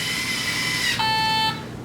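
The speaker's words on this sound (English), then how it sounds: "When you press the button, it makes a beep, it stops." A steady electronic beep tone holds for about half a second, then cuts off, over a background of high-pitched whine and hum.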